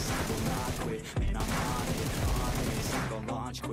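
PUBG Mobile gunfire, a dense rattle of repeated shots with heavy thumping impacts and layered game noise, loud and busy throughout, with a voice briefly audible underneath.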